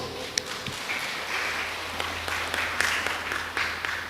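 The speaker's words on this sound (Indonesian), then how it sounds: "kita beri aplaus dulu" A church congregation at a Christmas celebration applauds a sector group: dense, steady clapping from many hands, filling the room for several seconds with a few louder individual claps standing out.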